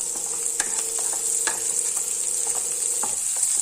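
Sliced beans stir-fry in a hot pan for veg fried rice, giving a constant loud sizzle with a few sharp spatula taps and scrapes against the pan.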